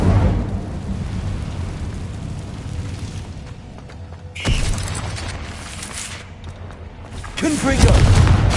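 An Incendio fire spell is cast in a Hogwarts video game, giving a sudden whooshing burst that follows a low rumbling bed, with another loud surge near the end.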